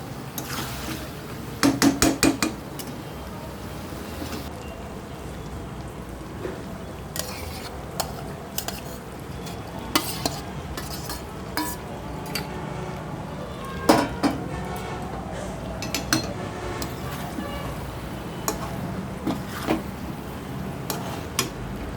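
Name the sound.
stirring paneer and soybean into gravy in a pan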